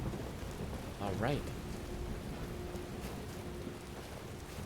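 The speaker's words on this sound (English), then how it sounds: "Thunder and Lightning." Rain falling steadily during a storm in Skyrim, a faint continuous hiss with a low rumble of thunder; a voice briefly speaks over it and a short warbling tone sounds.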